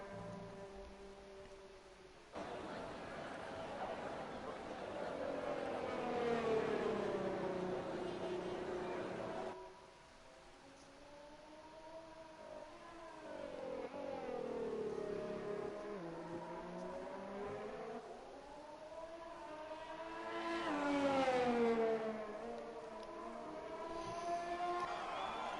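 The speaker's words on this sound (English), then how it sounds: "Ferrari out on track while we wait for the session to end" A Ferrari Formula 1 car laps a French circuit in the F1 2020 video game, its high engine whine sweeping up and down through gear changes in a steady, continuous drone with no break.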